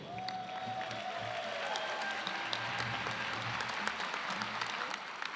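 A large crowd at a university engineering commencement applauds the bachelor's degree graduates, steady dense clapping filling the hall at an even level throughout, with a faint tone and crowd murmur underneath.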